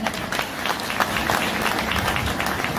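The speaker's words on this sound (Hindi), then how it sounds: "ये मेरे गुरु है सर बीसी छाबड़ा जी, एक बार जोरदार ताली मैं चाहूंगा सर।" Audience applause at an RCM business seminar, a steady dense wash of clapping from a crowd that fills the whole stretch at moderate loudness, with no clear speech over it.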